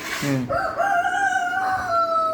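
A country rooster crows once, close and loud, a long sustained cock-a-doodle-doo call.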